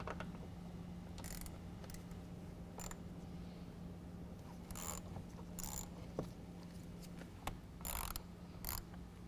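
Five fender bolts are backed out of the inner fender of a 2019 Chevy Silverado 1500 with a T15 Torx bit, giving quiet intermittent ratcheting and mechanical clicks in short bursts over a low steady hum.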